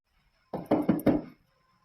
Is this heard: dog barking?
no